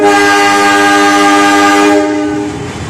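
A loud, sustained multi-tone horn blast sounds close by as the KA 167 Kertanegara passenger train departs Lingi station, holding steady for about two seconds before cutting off into fading rumble.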